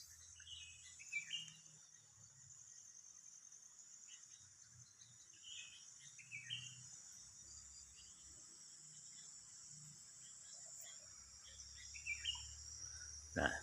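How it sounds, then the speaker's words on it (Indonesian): Birds chirp in short scattered bursts over a steady, high insect drone on a rainy evening in a remote rural village, fairly faint and distant, with no voices. "suara burung pun berkicau"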